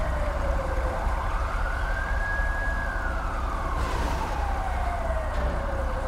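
A wailing ambulance siren in Grand Theft Auto V rises and falls slowly over steady engine and road rumble, loud and sustained throughout.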